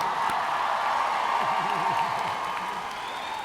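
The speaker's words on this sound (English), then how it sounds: "seeking to get a better round of applause" A large crowd applauds and cheers for the graduating class at a university commencement ceremony, a steady dense wash of clapping with a faint whoop and a voice rising briefly beneath it.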